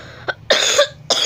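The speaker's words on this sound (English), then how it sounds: "I don't know why am I coughing" Two or three sharp coughs in quick succession, close and loud, with a short gap between bursts.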